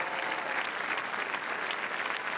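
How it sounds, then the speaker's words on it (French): A large crowd in the grand hall of the Cannes festival applauding as a film team enters, a dense, even roar of clapping heard from a distance. "toute l'équipe applaudit dès son entrée dans le palais"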